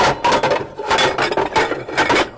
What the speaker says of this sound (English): You ever sound like this, trying to find the right lid to the right pan at home?